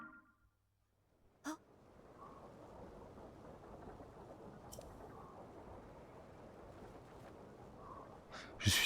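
A storm rages over a village in Zelda: Tears of the Kingdom, steady rain hissing throughout with sharp thunder cracks near the start, in the middle and at the end.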